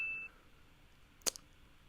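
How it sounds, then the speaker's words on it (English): A notification bell sound effect gives one short bright ding followed by a softer second chime, alone against near silence after a brief high tone at the start. "Hear the ding"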